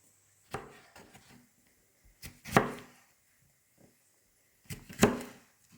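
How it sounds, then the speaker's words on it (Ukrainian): A knife cuts through a pepper in a few separate slices, each a crisp crunch against a cutting board, with quiet pauses between cuts. "Перець нарізаю соломкою."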